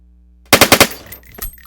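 Automatic gunfire in the War Tycoon video game, a tight burst of four loud rapid shots followed by fainter clatter and one last thud, close and without speech.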